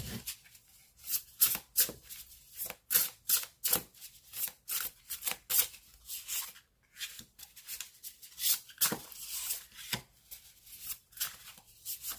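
Tarot cards being shuffled by hand for a cross spread, crisp papery riffles and slaps in quick irregular bursts, close up with brief gaps between them.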